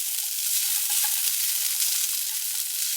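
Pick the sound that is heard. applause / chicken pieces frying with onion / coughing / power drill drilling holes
chicken pieces frying with onion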